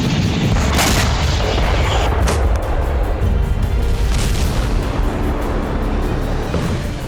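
Continuous heavy rumbling with deep booms and sharp bursts of gunfire from the Russia-Ukraine war, loud and sustained throughout, like artillery pounding in the distance.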